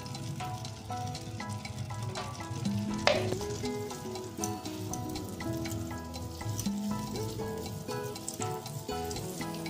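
Ghee melting into butter in a hot pan for chicken patiala, a soft continuous crackling sizzle with a spoon clink, heard under gentle background music.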